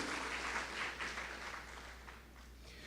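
A church congregation applauds during a Portuguese-language sermon, a steady wash of clapping held at an even level throughout.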